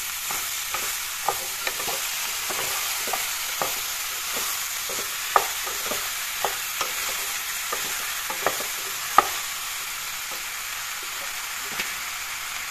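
A spatula stirs chopped ridge gourd frying in a pan, giving a soft continuous sizzle broken by regular light scrapes and taps, with a few sharper clicks against the pan and no speech.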